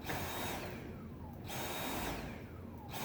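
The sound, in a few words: vacuum cleaner running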